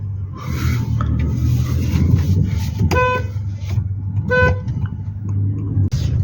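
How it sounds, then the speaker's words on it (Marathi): A car's engine runs steadily with a low hum as it pulls away, cut by two short, sharp horn toots in quick succession, close and loud amid road noise. "गाडी स्टार्ट केलेली आपली"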